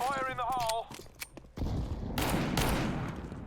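Gunfire in a video game, a burst of rapid, loud cracks arriving after a tonal whine and scattered clicks, then continuing as dense rattling fire to the end.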